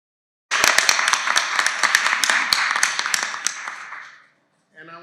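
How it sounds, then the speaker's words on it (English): Audience applauds at a reparations commission meeting, a short burst of clapping with some sharp, close claps that dies away, followed by a brief voice. "So we give them a round of applause."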